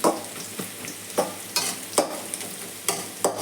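Onions frying in a pan, stirred now and then so a spatula scrapes at a steady, fairly regular pace over a continuous close sizzle, with no voices.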